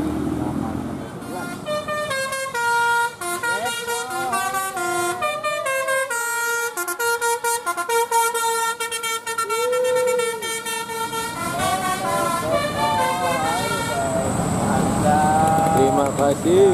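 Several Indonesian buses sound telolet basuri horns, playing bright, tuneful multi-note melodies one after another, loud and close over a steady crowd murmur and traffic noise.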